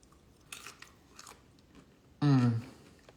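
Crunchy roasted carrots from a sheet pan dinner are bitten and chewed close to the mic, with soft crunches early on and then one loud, sharp crunching bite near the end.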